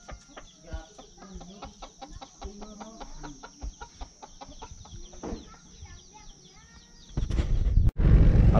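Fighting cocks in a village in Kengtung cluck and call in short, irregular bursts, with a loud rustling burst near the end, no talk.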